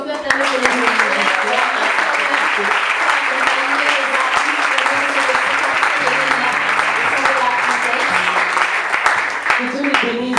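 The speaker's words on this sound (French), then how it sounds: "je voudrais exceptionnellement qu'on acclame l'équipe musicale, tous les musiciens" A large audience applauding the music team at a live talk show event, with dense sustained clapping throughout and voices mixed in underneath.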